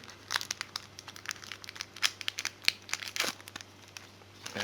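Pokemon card booster pack from a Lugia set torn open, crisp foil crinkling and rustling in quick irregular bursts, close and fairly quiet, with no talk.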